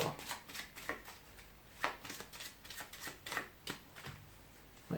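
Playing cards shuffled by hand during a card trick, a quiet series of soft riffling and tapping bursts at close range, irregular in rhythm.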